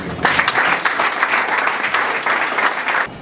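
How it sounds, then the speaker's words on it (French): At a March 8 Women's Day gathering in Bangalore, an audience applauds for women, a full, even round of clapping that holds for about three seconds and then stops abruptly. "Alors, please, applaudissons pour la femme"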